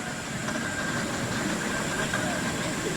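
Steam showman's engine running at the Appleford steam rally, a continuous mechanical chuffing rumble with a faint steady whistle-like tone, moderately near and even in level.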